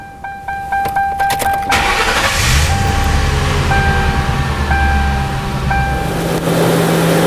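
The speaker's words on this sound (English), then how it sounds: "So let's go ahead and start this vehicle up." A car engine cranks with a rapid rhythmic starter whirr for about a second and a half, catches and revs up, then settles into a loud, steady close idle.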